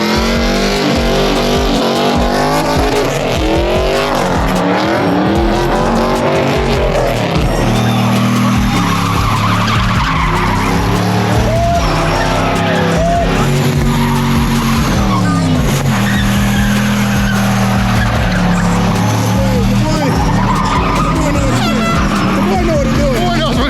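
Loud, continuous LS-swapped Skyline drag racing at LS Fest 2023 in Las Vegas: engines roar and rev with rising and falling pitch and tire squeal as cars launch, while people talk over the noise throughout.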